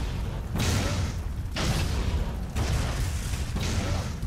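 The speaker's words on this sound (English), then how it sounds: "I'm guessing I have to time with the explosions" Repeated explosions in the video game Shank 2, four broad booming bursts about a second apart, each loud and sustained with a sharp onset, with no talk over them.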